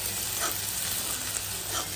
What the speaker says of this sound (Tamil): இந்த வெங்காயத்தை நல்லா ஃப்ரை பண்ணிக்கலாங்க.